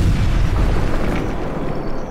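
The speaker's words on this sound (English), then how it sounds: "a massive explosion shook the entire city of Edinburgh," A massive explosion evoking a blast that shook Edinburgh, Scotland, rendered as a loud, deep, rumbling boom that fills the whole stretch and slowly fades, with no talk.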